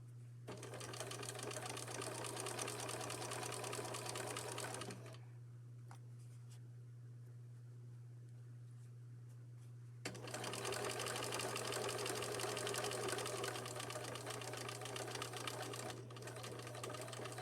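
A sewing machine stitches a denim pocket on cut-down jeans in two long steady runs, close and clear, separated by a quieter pause of several seconds with faint handling noises.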